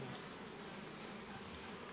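Steady, dense buzzing of many honeybees close by at a hive, a continuous hum with no voices.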